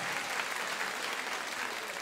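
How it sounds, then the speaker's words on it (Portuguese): A church congregation applauds together, a steady wash of clapping with no break. "Pode aplaudir."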